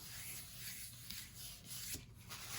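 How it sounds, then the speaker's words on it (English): Paper being rubbed by hand across a gel printing plate, a steady soft brushing and scuffing texture with gentle swells, close and continuous with no talking. "I'm going to Just make sure that I rub all over the place on that one"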